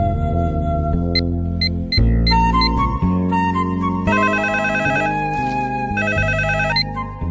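A telephone rings with a loud, continuous electronic melodic ringtone, cycling through bright repeating tonal phrases with no talking over it.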